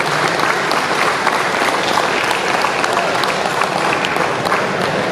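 Dense, sustained applause from an audience at a bike show, a loud, even wash of many hands clapping throughout with no talk over it.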